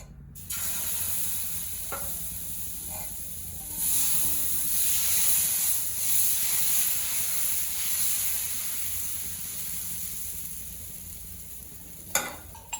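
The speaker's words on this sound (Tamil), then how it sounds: "இதே மாதிரி இன்னொரு தோசை சுட்டுக்கலாம்." Ragi dosa sizzles steadily on a hot pan, a continuous close frying hiss that swells midway and stays loud, with a few light clicks of a utensil and a sharper clatter near the end.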